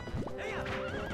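A horse whinnies loudly in The Legend of Zelda: Twilight Princess HD, a long wavering neigh over hoof clatter during mounted sword combat on a bridge, with no talk.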